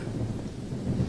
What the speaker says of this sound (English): Cue the thunder.